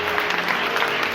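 A church congregation claps in a brief, continuous wash of applause, with voices mixed in.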